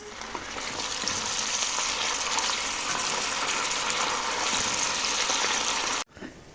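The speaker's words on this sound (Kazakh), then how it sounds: "Қызып тұрған қазанымызға майымызды құйып, жаңағы етімізді салып, жақсылап 3-4 минут қуырып алатын боламыз." Meat fries in hot oil inside a cauldron, a loud, steady, dense sizzle that runs without a break for about six seconds before cutting off abruptly.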